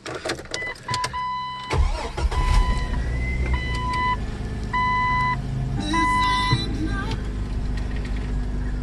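A manual Jeep Wrangler TJ with the 4.0 engine being started: dashboard chimes and beeps ring out, the starter cranks and the engine catches into a steady close idle with further warning tones over it.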